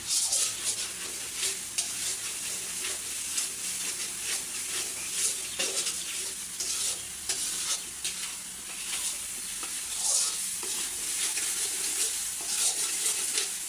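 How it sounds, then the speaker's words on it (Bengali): Spices and salt sautéing in a pan before beef tripe goes in, a continuous close sizzle broken by repeated stirring scrapes, with no voices. "স্বাদ মতো লবণ মশলাগুলো একটু কষিয়ে নিচ্ছি"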